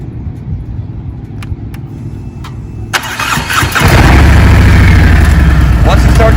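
A heavy motorcycle pulls away on the clutch alone: a low engine idle rumble, a sharp clunk, then the engine swells into a louder, sustained roar close by.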